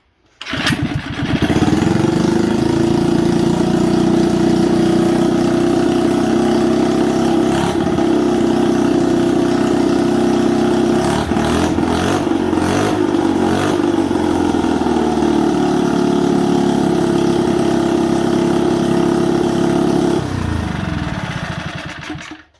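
A mini bike's small single-cylinder engine, choke just pulled, catches and settles into a steady, loud, buzzing idle that runs continuously for about twenty seconds before cutting off, with a brief uneven rise in the middle.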